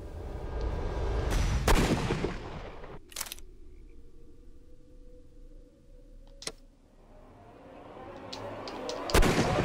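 Gunshots in a Sherlock Holmes video game come as a few sharp, loud reports separated by quieter stretches of ambient game sound.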